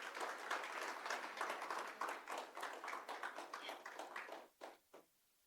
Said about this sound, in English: Can we all just get a round of applause for all of you who have come here today?